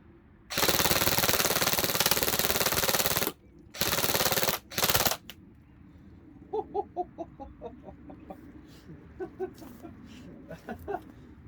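An ASG Scorpion Evo CZ airsoft gun fires loud full-auto bursts: one long burst of about three seconds, then two shorter ones, followed by a string of quieter, scattered clicks and knocks.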